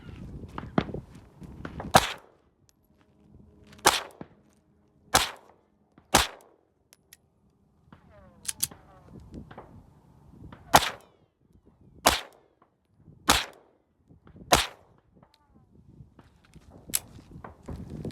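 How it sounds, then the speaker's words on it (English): A Sig Sauer P365 SAS pistol fires 65 grain rounds in about ten sharp, loud reports spaced roughly every one to two seconds, with quieter handling clicks and faint rustling between shots. "I'm gonna show you what some of the recoil is like with this 65 grain round."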